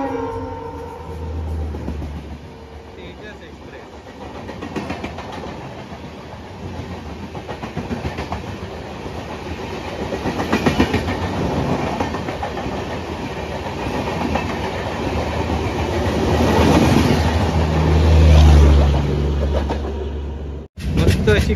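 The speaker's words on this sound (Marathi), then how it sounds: "बघूया कोणती ट्रेन येतात ती." A passing train on the Konkan Railway, heard from the Mandovi Express halted at Verawali station, builds from a low rumble into loud clickety-clack and roaring wheels that peak close by, then cut off abruptly.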